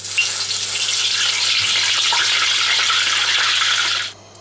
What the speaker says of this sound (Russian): В масло добавляю воду.